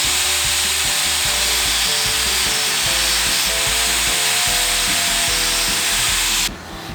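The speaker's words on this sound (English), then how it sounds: "quick touch up on the belt sander" Belt sander grinding a 6-pin plug down to a 4-pin, a loud close continuous high abrasive whine with uneven pressing and rasping against the workpiece, ending abruptly near the finish.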